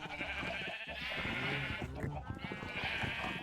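Sheep bleating on a sheep farm in modded Minecraft, several drawn-out bleats in a row, fairly loud and close, with other game sounds mixed underneath.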